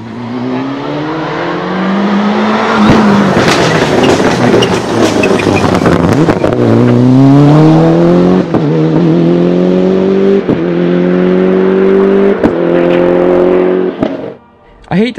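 Sixth-generation Toyota Celica GT4 engine revving loudly and close, with repeated rising pulls and drops in pitch over several seconds, ending with a brief lull.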